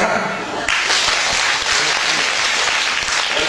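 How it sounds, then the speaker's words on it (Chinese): An audience bursts into applause at a live crosstalk comedy performance, dense clapping that rises suddenly and holds steady, with voices mixed in. "掌声。"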